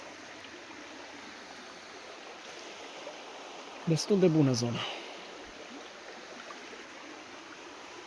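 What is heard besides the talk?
mountain stream flowing water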